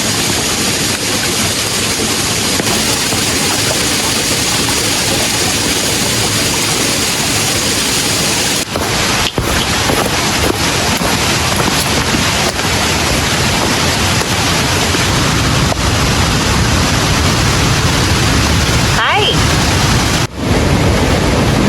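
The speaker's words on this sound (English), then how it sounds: "This is the Spence Ridge water crossing." A rushing river roars at the Spence Ridge water crossing in the Linville Gorge wilderness, a loud, unbroken wash of water filling the whole stretch, close by and with no voices.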